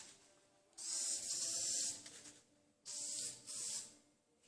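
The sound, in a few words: spraying 5907 adhesion promoter from a can onto car body kit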